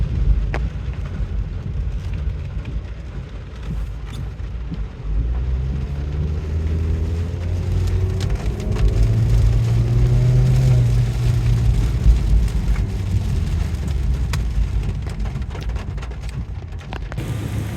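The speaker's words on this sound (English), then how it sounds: "It's very, very rainy today" Heavy rain falls steadily around a Mazda CX-30 parked outside, a constant hiss of drops on the surfaces nearby, while a vehicle engine hums and swells through the middle before fading back under the downpour.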